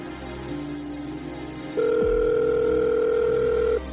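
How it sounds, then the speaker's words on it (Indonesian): An in-game phone in Sakura School Simulator dials out, giving a short low tone and then a long steady ringing dial tone that cuts off after about two seconds, clear and close with no talk. "Coba deh gue telepon Kak Jihan"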